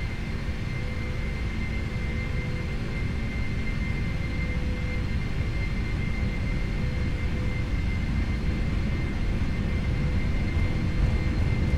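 A continuous, loud jet engine roar from a simulated Boeing 747-400 at takeoff thrust during the takeoff roll in the Prepar3D flight simulator, a steady broadband rumble with faint tonal whine and no talking.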